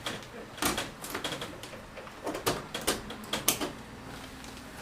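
A hand tool scores around a stuck wooden window sash, making a rapid series of close, dry scraping clicks in an uneven, rhythmic flurry against a steady background hiss.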